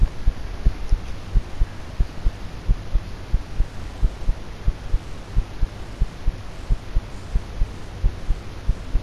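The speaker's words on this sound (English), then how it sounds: "Why's my heartbeat going so fast?" Heartbeat sound effect in a horror video game, a steady, fairly fast pulse of low thumping double beats over a constant hum and a faint high whine.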